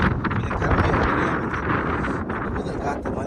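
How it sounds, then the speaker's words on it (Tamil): Steady, roaring mountain wind gusting across a microphone on Mount Noor (Jabal al-Nour), broadband rushing that stays constant and loud throughout with no clear voices. "புது காற்று மலை காற்று மாதிரி அடிக்குது"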